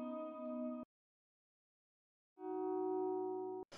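Dry electric guitar with effects off plays two chords, each swelled in with the volume knob and sustained, separated by a silent gap, ending with a short noisy burst.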